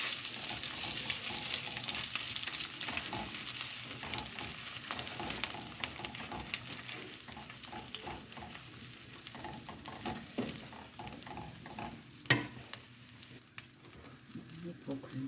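Tomato sizzles in a pan with minced meat and added oil, a soft continuous frying hiss with scattered spatula clicks and taps, fairly quiet, no talking.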